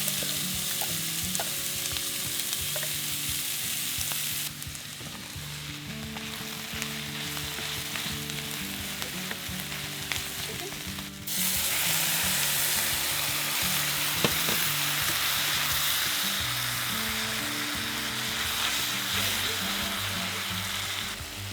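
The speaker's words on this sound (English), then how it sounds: "Then got some ghee, put it in the pan here. Onions." Chopped onions frying in ghee in a pan for a keto Thanksgiving dish, a steady close sizzle and crackle that grows louder partway through, with no talk.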